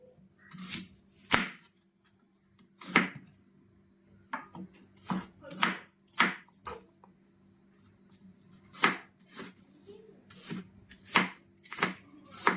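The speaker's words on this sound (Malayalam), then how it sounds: "ആപ്പിള് കൂടി അരിഞ്ഞെടുക്കാം." An apple is chopped with a knife on a board in a series of sharp, irregular thuds, some in quick pairs, close and clear against a quiet background.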